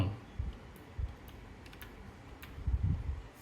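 Someone types on a computer keyboard in irregular clusters of soft keystrokes and clicks, fairly quiet against a steady low background hum.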